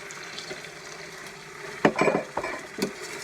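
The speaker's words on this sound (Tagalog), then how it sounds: "Ilagay ko na itong bamboo shoot." Bamboo shoots added to pork adobo cooking in a pot, with faint background sizzling and then a few clattering stirs and wet splashes as the pieces go in.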